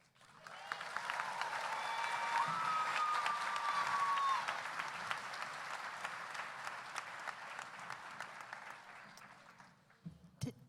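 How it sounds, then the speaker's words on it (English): A graduation ceremony audience breaks into sustained applause for its student speakers, a dense wash of clapping that swells quickly, holds for several seconds, then tapers off near the end. "Can we give them both a round of applause again?"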